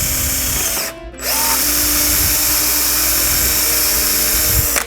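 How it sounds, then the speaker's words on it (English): A power drill whines loudly and steadily, pausing briefly before spinning up again and boring continuously into a skate boot heel at close range. "So right now we're gonna drill the heel."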